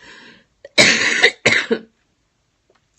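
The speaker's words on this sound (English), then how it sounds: "because of this silly cough" Two harsh, forceful coughs close to the mic, one right after the other, with quiet before and a faint throat noise trailing after.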